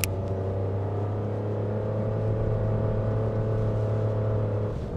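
A Suzuki Wagon R Smile's engine pulls under acceleration on a mountain road: a steady, close drone with a low hum and layered tones holding at an even level throughout, with no voices.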